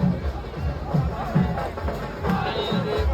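A dense crowd packs the Shantipur Kali festival, making a close, continuous babble of many overlapping voices with some louder calls rising above the general din.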